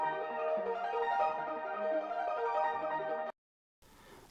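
Layered hyperpop synth loops from Splice ride over a bass line, a dense bright tonal bed with steady movement that plays for about three seconds, cuts to silence, then returns as a fainter noisy wash.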